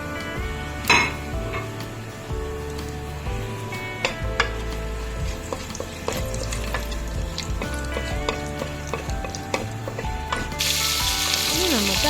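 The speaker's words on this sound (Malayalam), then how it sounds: "ഇനി ഇതിലേക്ക് നമുക്ക് നമ്മുടെ ഗരം മസാല കൂട്ടുകൾ ഇടാം" Whole garam masala spices drop into hot sunflower oil in a pressure cooker, crackling and sizzling with clinks and scrapes of a metal spoon against the pot, close and busy, then a louder hiss near the end.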